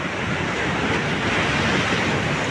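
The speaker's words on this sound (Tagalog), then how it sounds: "Lalaki ng alon guys, nakakatakot ha" Loud, steady roar of heavy ocean surf crashing near Sulangan lighthouse, a continuous wash of large breaking waves with wind noise mixed in.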